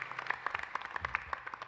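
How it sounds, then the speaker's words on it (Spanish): Applause from a church congregation for the parish choir at a Mass, heard as scattered, fairly soft clapping with uneven individual claps rather than a dense roar. "Un fuerte aplauso al coro permanente de la parroquia San Blas."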